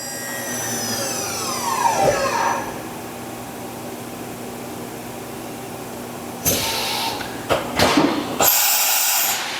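Air blow during a simulated tool change on a 2012 Quaser MV154 vertical machining center with a CAT 40 spindle and a 30-tool side-mount changer: a loud hiss with a falling whine, then more sharp air bursts and mechanical clunks.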